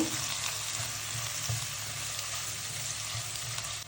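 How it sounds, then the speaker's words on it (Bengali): Prawns frying in a pan with a pinch of turmeric and chili powder, a steady close sizzle throughout with light stirring clatter, no voices. "চিংড়িটাকে খুব সুন্দর করে ভেজে নেব"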